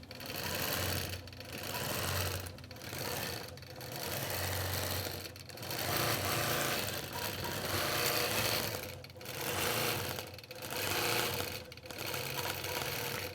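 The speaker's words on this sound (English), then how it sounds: "And so now we're going to stitch it out." An embroidery sewing machine stitches out a quilt design, its rapid needle chatter running loud and close in long bursts broken by brief regular pauses.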